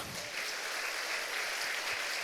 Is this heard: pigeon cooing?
no